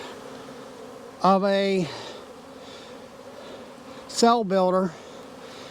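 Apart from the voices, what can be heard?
bees buzzing inside a queen cell builder hive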